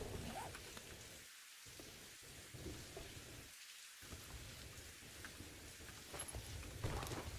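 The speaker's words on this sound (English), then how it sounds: "Perfect timing for the storm to stop." A video game thunderstorm plays as a continuous wash of heavy rain on surfaces, with low rolling thunder swelling underneath and a couple of brief drops into near silence, fairly quiet overall.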